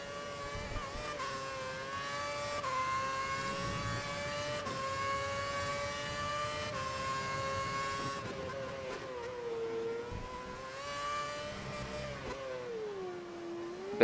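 A Formula 1 car engine in the F1 2011 racing game during qualifying at Singapore, the engine starting to overheat, holding a steady high whining drone that rises and falls with throttle, continuous and loud throughout, with no talking.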